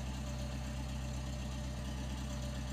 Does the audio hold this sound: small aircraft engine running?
yes